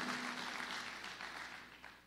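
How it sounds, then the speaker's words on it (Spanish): Congregation applause during a church sermon, a steady broadband clapping that fills the room for about two seconds and tapers slightly toward the end. "¿Cuánto le dan un aplauso al Señor por esta espectacular nación de Israel?"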